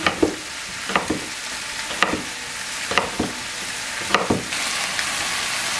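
Steady sizzling in a pan while mango adobo ingredients fry, with a series of spatula scrapes and knocks roughly once a second over the constant hiss, close and clear, no speech.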